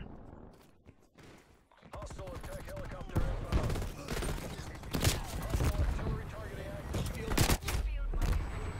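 Gunfire in Call of Duty Cold War, with sharp bursts of shots and rattling volleys scattered through a busy match, loud and close at moments, while a player talks over the action.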